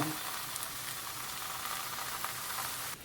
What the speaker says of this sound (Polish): A więc wylewamy go teraz na patelnię. I rozprowadzamy po całej patelni.